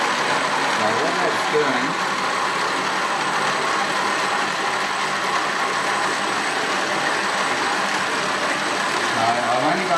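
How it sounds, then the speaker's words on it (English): A motor spinning a CVT test rig with an opposing-torque dynamic clutch runs as a continuous even mechanical whir and hum, while someone talks over it. "So I've only got this motor running at the moment"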